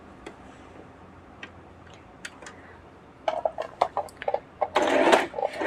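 Sewing machine stitching the neck of a ready-made suit, starting with sparse soft ticks and then breaking into short bursts of rapid stitching that build to a louder continuous run at the end.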